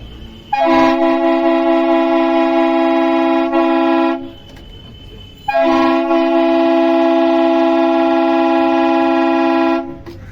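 An electronic toy plays its express-train horn twice. Each blast is a long, loud, buzzing tone lasting several seconds, with a short pause between them, heard close up and without voices.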